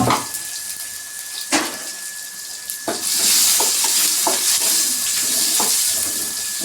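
Onions and green chillies frying in a pan, giving a continuous bright sizzle that grows denser partway through, with sharp clatters of a utensil stirring and scraping.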